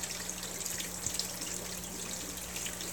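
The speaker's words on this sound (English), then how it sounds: "I've got some pumps, and it pumps water into a hang-on-back filter." Aquarium pumps push water into a hang-on-back filter in a home fish room, giving a steady, faint trickling and splashing wash with a low hum beneath and no talking.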